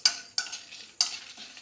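Spices dry-roasting together in a hot pan, three quick scraping stirs of a utensil over a faint sizzle, close up with no talk.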